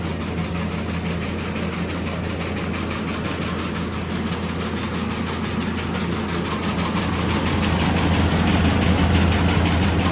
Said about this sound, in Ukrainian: Ну, вроді працює віялка, нормально все.